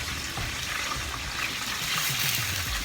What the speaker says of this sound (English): Have some fresh water. Just going to pour that in.